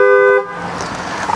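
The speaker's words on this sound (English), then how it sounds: "I'm going to do now what I like to call the horn test. And what that is we test out the horn" A 2019 Maserati Ghibli S GranSport sounds its horn in one loud, steady honk of about half a second, close by, followed by faint ambient noise.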